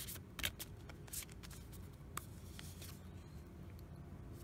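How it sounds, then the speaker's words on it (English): Quiet, close riffling of oracle cards shuffled overhand, with soft papery slaps in an uneven rhythm. "Easy to shuffle overhand like that."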